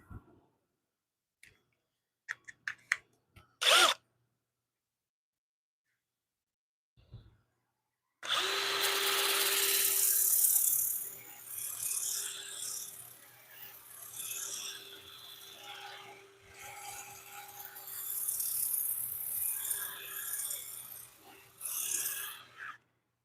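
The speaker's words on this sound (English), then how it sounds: "do a little sanding to this" A wood piece spins on a lathe as it is sanded, a sustained abrasive rasping over a steady motor hum that swells and eases in waves for about fifteen seconds, after a few scattered clicks and knocks in near-silence.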